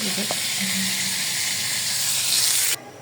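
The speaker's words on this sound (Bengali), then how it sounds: "এই যে পাগুলো হচ্ছে আমি ভেজে নিতেছি" Prawn legs frying in hot oil produce a loud, dense, continuous sizzle that holds steady and then drops off abruptly just before the end.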